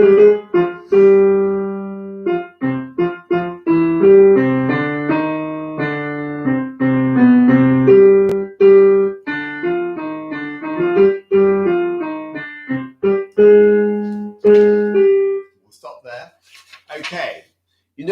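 The alto part from bar 34 of a Bach piece plays back as a single melodic line of sustained and repeated notes, clear and steady, then stops near the end with a brief voice and faint noises.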